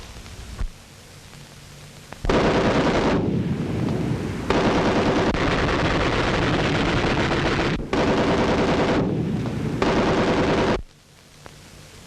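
Machine gun section in an infantry attack firing rapid bursts, long sustained loud rattling volleys with brief pauses between, close and dominant with no talk.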